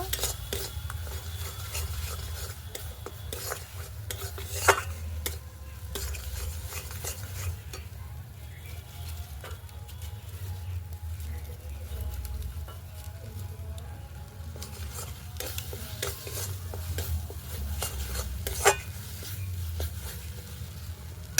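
Rohu fish curry with eggplant being sautéed in a pan, a soft continuous sizzle under repeated scraping and stirring strokes of a spoon, with occasional sharper knocks against the pan.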